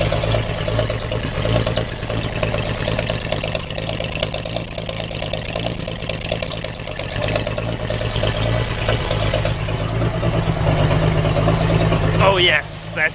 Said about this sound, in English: You get a shot of the exhaust note here. It's got that beautiful blown out glass back sound.